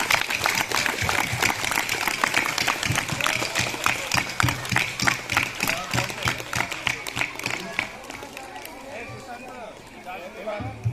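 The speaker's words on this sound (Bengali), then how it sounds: "সকালে একটু হাততালি, জোরে হাততালি।" A crowd at a school tree-planting festival ceremony claps in a dense, rhythmic round of applause that fades toward the end.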